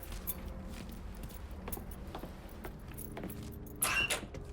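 In Mafia III, a ring of keys is picked up with a short, bright metallic jangle near the end, after a stretch of quiet room tone and faint mechanical clicks.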